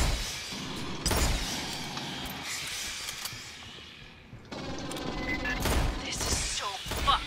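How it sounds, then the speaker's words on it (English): A sentry gun firing in the video game Aliens Fireteam, rapid bursts of gunfire with sharp louder shots scattered across a busy battle soundscape, fairly faint overall. "this sentry gun can be picked up and moved"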